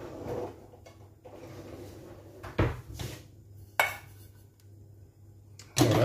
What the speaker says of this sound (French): vous mettez le sucre dans votre casserole.